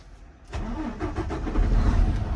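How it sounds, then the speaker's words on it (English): A truck engine cranks and fires up after a moment of near silence, during an air brake inspection, then settles into a loud, close, rumbling run. "So, that's why I am starting my truck now."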